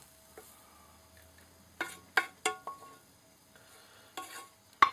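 Leek and noodles fry quietly in a pan, with a soft sizzle under a run of sharp scrapes and clicks as a utensil stirs against the pan.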